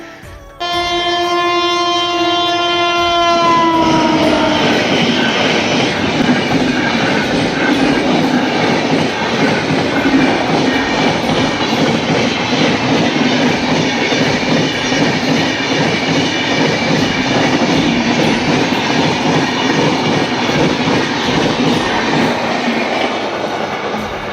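A train passes a railway crossing where traffic waits. A loud horn blast opens, followed by a long, heavy rumble of wagons with steady clickety-clack of wheels on rails, close and continuous.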